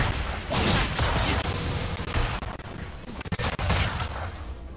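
In a League of Legends match, attacks and tower shots strike the player as a dense barrage of loud, crashing impacts and bursts, continuous and up close with brief dips between volleys.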